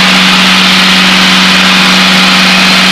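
Steady, loud drone of a light training aircraft engine in flight during a lesson, with a constant low hum and broad noise filling the cabin, no talking heard.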